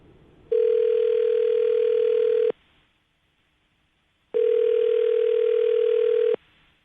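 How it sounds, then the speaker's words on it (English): Telephone tone heard as two long steady beeps, each about two seconds with a silent gap between, clear and close. "I'm going to dial her phone number right now, get her on the phone"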